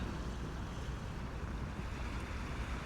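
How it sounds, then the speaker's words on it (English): Waves wash through the Neath estuary in South Wales, a steady, fairly quiet surf wash blended with wind rumble on the microphone, with no talking. "These waves here have been coming through here, which they weren't doing earlier."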